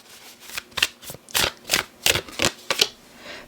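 Tarot cards are shuffled by hand in quick, crisp riffling bursts, about eight of them in an irregular rhythm. Each burst is close and clear against a quiet background.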